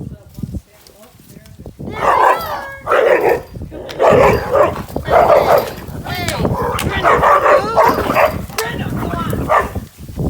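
Dogs barking in short repeated bursts, close and loud, with yips and whimpering mixed in while people talk to them over the barks.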